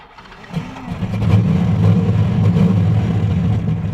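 A 700-horsepower 1970 Plymouth Barracuda engine cranks briefly and catches within half a second. It settles into a loud, close, lumpy idle rumble that continues to the end.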